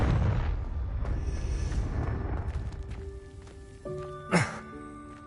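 A Confringo fire spell in the video game Hogwarts Legacy bursts as a sharp explosive boom near the end, following a rumbling stretch of noise and fading tones, with a brief ringing tail.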